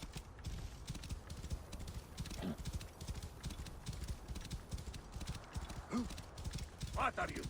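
Quiet, rhythmic video game horse hoofbeats clip-clop steadily throughout in Assassin's Creed Origins, with faint talking and an occasional snort mixed in.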